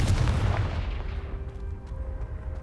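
A Confringo blasting spell explodes in Hogwarts Legacy: a single heavy, booming blast at the start that rolls off into a long, fading rumble with a faint lingering tone, close and loud, with no voices.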